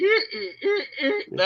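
A voice imitates the donkey-like bray of a monster from Son of Godzilla, a series of short, harsh, honking pulses in quick succession.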